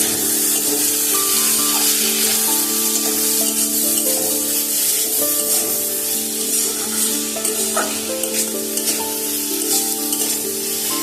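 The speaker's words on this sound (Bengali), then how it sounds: "এখন সবজিটাকে একটু ভেজে নেব।" Vegetables seasoned with salt and turmeric fry in a pan, a loud continuous sizzle with occasional stirring scrapes and a faint steady hum underneath.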